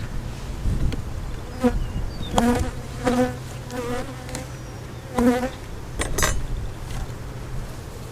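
Honey bees buzz close by as a hive is split, with loud droning passes swelling and fading in repeated bursts over a steady hum of the colony.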